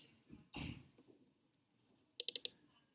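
Mouse clicks sound on a computer while navigating Microsoft Word: a soft knock, a single sharp click, then a quick burst of four crisp clicks, close and quiet with no talking.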